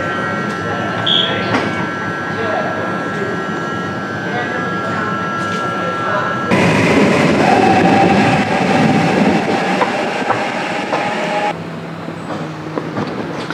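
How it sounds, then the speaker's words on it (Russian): Interior of a double-deck passenger train running along the Cinque Terre coast toward La Spezia, a steady loud rumble and rattle with a surge midway, and people talking inside the carriage. "едем в поезде Чинкветерра."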